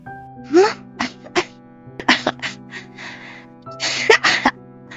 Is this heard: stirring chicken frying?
no